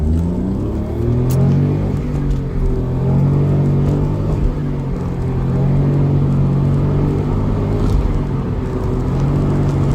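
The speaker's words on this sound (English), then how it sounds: "Floor it, let's follow the i8." Car accelerating hard at full throttle while following a BMW i8, with a loud, steady engine drone whose pitch climbs gradually through the run and no speech over it.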